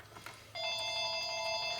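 A telephone behind a garage workbench starts ringing, a steady electronic ring with bright repeating tones that cuts in sharply and holds loud, following faint workshop noise beforehand.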